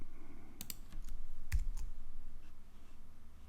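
Computer keyboard arrow keys are pressed while paging through a document in Adobe Illustrator, giving a few sharp, close clicks in a quick cluster, with one firmer tap near the middle and quiet background between presses.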